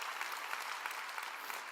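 A church congregation at a deaf-ministry service applauds, a soft, steady patter of many hands heard at a distance with no voices over it.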